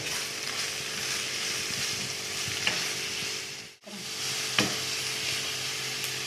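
Minced meat sizzles steadily in a pan with black pepper and turmeric, a continuous close frying hiss with occasional scrapes of stirring and a brief dip midway.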